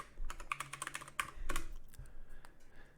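Fingers typing a username and password on a computer keyboard, a quick run of soft key clicks followed by a few separate taps, close and fairly quiet.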